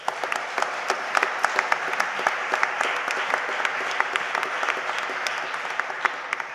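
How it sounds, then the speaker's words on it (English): An audience at an inner-city education symposium claps steadily through a round of applause for a returning school alum, dense and even throughout, with a faint voice underneath. "I want us to give him a special round of applause as we welcome back this wonderful Gesu alum"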